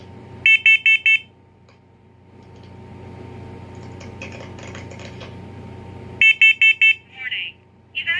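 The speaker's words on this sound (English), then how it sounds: "Warning. Evacuate. Smoke in child's bedroom." First Alert PC1210V smoke and CO alarm under test gives a burst of four fast shrill beeps, then a spoken warning from the alarm's own voice, then another four-beep burst, loud and close.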